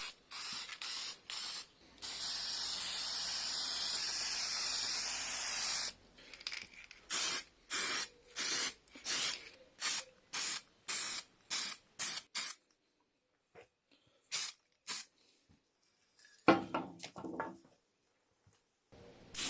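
An aerosol spray can fires one long continuous hiss, then a run of short rhythmic bursts that thin into sparse spurts, close and loud with no talk.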